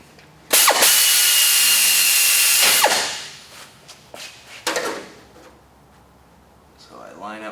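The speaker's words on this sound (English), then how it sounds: "I'm going to drill some holes" A power drill boring holes in an automotive workshop, one loud sustained whine lasting over two seconds, winding down, then a shorter burst and some clatter; close and loud.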